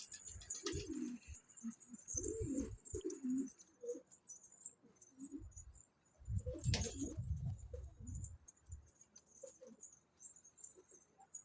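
Pigeons coo in soft, throaty bursts at close range, repeating with short pauses, alongside faint high chirps in the background; a female pigeon.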